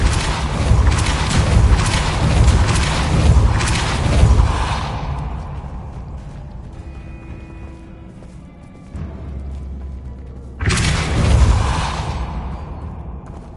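Depulso spell cast in Hogwarts Legacy on PS5, loud booming whooshes and impacts, a burst early, a quieter rumbling stretch, then another sharp blast near the end, with no talk over it.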